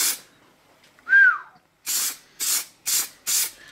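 Metallic blue spray paint is applied to a British car jack in four short, loud hissing bursts, preceded by a brief whistle-like tone.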